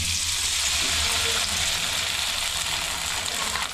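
Sandige crisps frying in hot oil in a village kitchen, a loud, continuous hiss and crackle of sizzling with no one talking.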